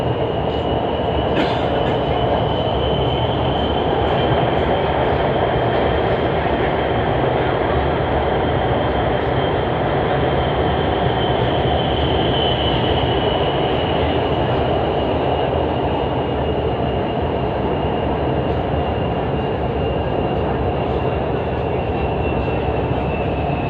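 A metro train runs between stations toward Hanjarwal station with a loud, continuous rumble of wheels on rails and a faint high whine held throughout.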